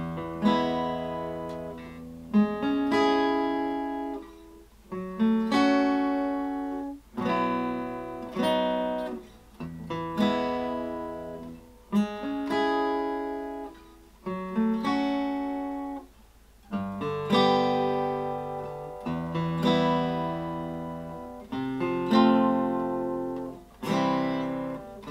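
Acoustic guitar strumming the verse chords of a song from Mulan (2020 version), close and clear, with steady rhythmic strums and changing chords over about 25 seconds and no voices.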